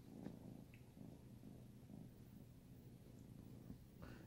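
A small kitten purrs close by inside a cold house, a soft continuous low rumble that stays steady and quiet throughout.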